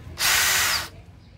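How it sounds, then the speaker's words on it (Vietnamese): A Dewalt three-function drill with an 8 mm bit bores into ceramic tile laid over concrete, a loud, steady grinding whine that starts abruptly, holds for about two-thirds of a second and then cuts off. "Đây là gạch men kèm theo là dưới là một lớp bê tông. Thì em thử test con 3 chức năng cho anh em nhé."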